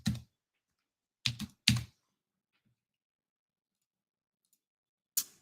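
A few isolated keystrokes on a computer keyboard while typing a search query, sharp close clicks in a small cluster separated by silence.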